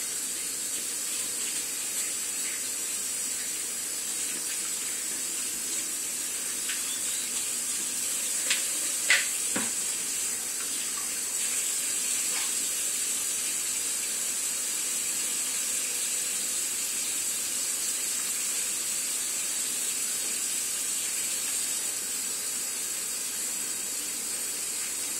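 A kitchen tap runs steadily while hands are washed, a constant close hiss that lasts throughout with only a faint clink or two partway through.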